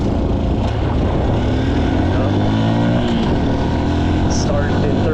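A motorbike pulls away from a stop, starting in third gear, its engine a low, strained drone that labours and slowly climbs in pitch under heavy, steady wind rush throughout.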